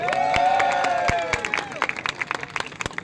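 Applause and cheers at an outdoor ribbon-cutting ceremony in New York City greet the Borough Parks Commissioner. The clapping is loud at first, then thins into scattered claps, with some voices mixed in.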